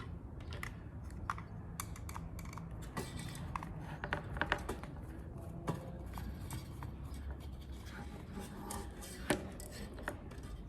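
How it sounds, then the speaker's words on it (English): Two short machine screws are backed out of a coffee roaster with a small screwdriver, giving close, faint clicks, scrapes and light taps of metal on metal at an irregular pace, with no talk. "we're going to take these 2 screws off"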